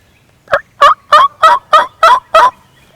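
A wild turkey gobbles loudly and close by, seven rapid, evenly spaced bursts of rattling calls, with quiet outdoor air underneath.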